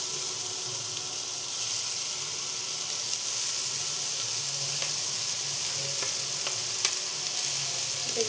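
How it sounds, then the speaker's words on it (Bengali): Grated carrot frying in hot ghee for gajar ka halwa produces an even, hissing sizzle with faint stirring clicks and occasional pops, steady and close with no talk. "এটা ঘিয়ের মধ্যে একটু ভেজে নেব।"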